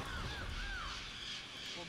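Crows caw in League of Legends, a couple of short rising-and-falling caws up close over busy game background noise.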